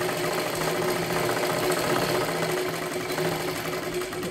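A sewing machine stitching a katori blouse runs in a continuous, fast, even mechanical whir that holds steady throughout with no pauses and no talk.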